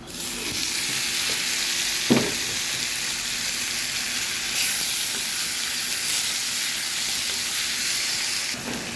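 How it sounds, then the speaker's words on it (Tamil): Softened onions and freshly added tomatoes fry in a pan for spicy dried-fish thokku, making a loud, even hiss that runs unbroken for several seconds, with one clear spatula knock near the start. "வெங்காயம் நல்லா வதங்கிட்டு இப்போ தக்காளி சேர்த்துருக்காங்க."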